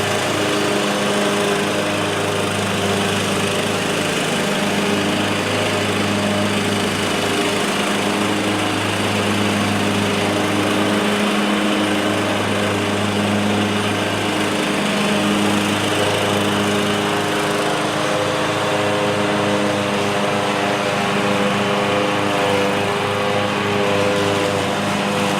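Lawn mower engine runs steadily and loud while cutting grass on a farm being readied for the growing season, a constant droning hum with slight periodic load changes throughout, no talk.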